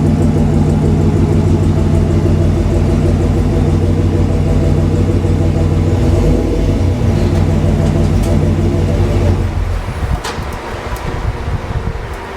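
A steady, loud Land Rover engine and exhaust rumble runs nearly the whole time, then drops off and turns rougher near the end, as if the engine is shutting down.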